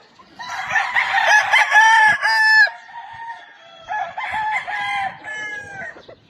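A Gilmore gamecock rooster crows loudly and close by, two long cock-a-doodle-doo calls with a short pause between, and no talking.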